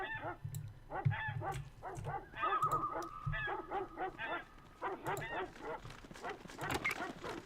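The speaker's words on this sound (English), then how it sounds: "Stock barking sound effect that I've heard before." Stock dog barking effect from the Fallout Tactics video game, a run of repeated barks and yips in quick succession, fairly loud and close, with a brief tonal game sound partway through.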